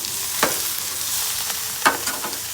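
Metal scraper rasping across a 22-inch Blackstone griddle where catfish stuffed with crawfish sizzles, a few sharp scrapes standing out over a steady frying hiss.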